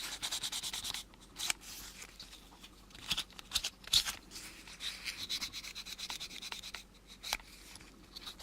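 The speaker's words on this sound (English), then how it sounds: "And a little fine sandpaper just around this edge." Fine sandpaper rubbed around an edge in short, scratchy back-and-forth strokes, very close and faint, with small pauses between passes.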